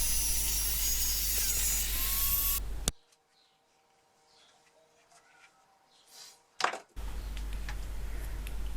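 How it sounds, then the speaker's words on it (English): A box spanner being cut down to size makes a loud, harsh burst of metal cutting that stops abruptly, gives way to near silence with faint rustles, then starts again for a second stretch. "So this box spanner, I've made it too big, so I'm going to have to cut it down to size."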